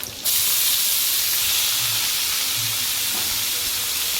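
Torn chilies and red amaranth greens drop onto fried shrimp in a hot pan, setting off a sudden loud, steady hissing sizzle that carries on without pause.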